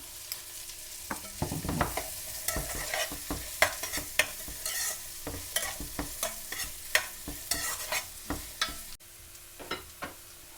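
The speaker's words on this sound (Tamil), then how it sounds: "வெங்காயம் வதங்கிறது கொஞ்சம் உப்பு போட்டு விடுவோம்." Onions sautéing in a pan for Indian bonda, with a steady sizzle under frequent rhythmic scrapes and knocks of a spoon stirring against the pan, close and fairly loud, and no voices.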